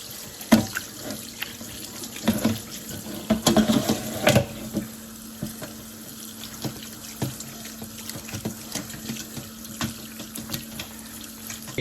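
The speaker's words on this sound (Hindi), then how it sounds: "प्रेशर काफ़ी है पानी है ना।" Water runs steadily from a kitchen tap into a sink during lamb mandi preparation, a continuous splashing rush with a few louder clatters early on, close and with no talking.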